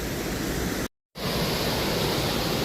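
Upper Calf Creek Falls tumbling through its canyon gives a steady, broad rushing roar heard up close, cut by one brief silent dropout before the same full wash returns.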